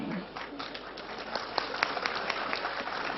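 An audience at a talk gives a faint, steady patter of scattered clapping that sounds a little distant and continues without a break.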